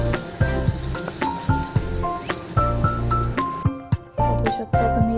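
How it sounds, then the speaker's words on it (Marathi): Onion frying in a pan until golden brown keeps up a steady close sizzle for several seconds, with frequent sharp clinks and taps of a utensil against the pan on top of it. "कांदा आपल्याला गोल्डन ब्राऊन होईपर्यंत फ्राय करायचा आहे"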